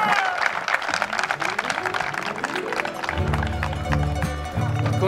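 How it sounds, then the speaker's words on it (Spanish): Applause rises from the crowd at a Chilean rodeo reining qualifier in Batuco for the men's champion rider, a sustained clatter of clapping under music and voices in the arena. "Fuerte el aplauso para el campeón del movimiento"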